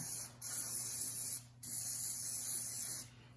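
Cooking spray hissing from an aerosol can into a muffin pan, three steady close bursts separated by brief pauses, loud and continuous with no talk.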